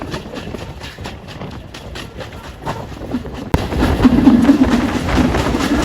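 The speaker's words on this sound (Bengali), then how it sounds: "কত জোরে যাচ্ছে ভাই" A local train from Rohanpur to Rajshahi rumbles along at speed, a steady rushing roar with faint rhythmic clatter that grows louder and fuller partway through, no talk.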